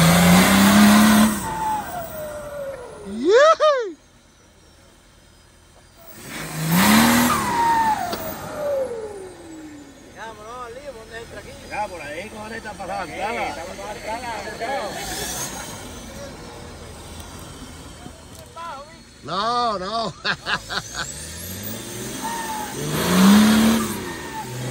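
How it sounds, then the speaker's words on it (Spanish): A turbocharged off-road vehicle revs on a dirt track at an off-road event in Spain, engine rising and falling in repeated loud pulls with whining turbo, some passes near and others farther off, with people talking in between. "Escuchen esa turbina."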